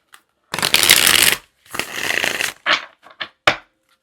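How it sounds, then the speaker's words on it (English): A deck of tarot cards is shuffled up close in two long riffling bursts, then a few short taps and flicks as the cards are squared, with no one speaking. "Let me give it a shuffle."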